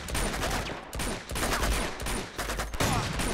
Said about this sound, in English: Oh, it's like a shotgun.